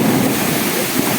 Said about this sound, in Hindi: ये देखो घड़घड़ी साउंड आप शुणी पारे